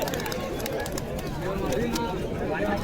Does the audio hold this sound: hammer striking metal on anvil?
no